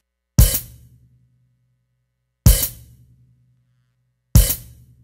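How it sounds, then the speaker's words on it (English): Three quick hi-hat barks on an electric drum kit, each a sharp open-and-close splash cut off fast, evenly spaced about two seconds apart with silence between. "it's just a really quick hi-hat open and close"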